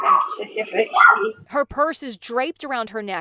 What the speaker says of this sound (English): you can hear her dog barking inside her house as she slurs her words